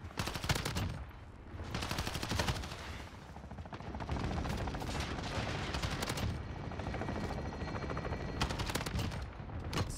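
An AUG assault rifle fires in Modern Warfare, rapid close bursts of gunfire in several strings with short pauses between them, loud and dense throughout.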